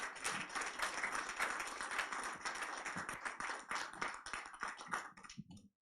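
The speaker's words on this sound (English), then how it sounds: "Please, a round of applause again for the winning team." Audience applause at a signing ceremony for a letter of intent on an NLNG Train 7 contract, with dense, steady clapping from a sizeable crowd that holds for several seconds and then stops abruptly.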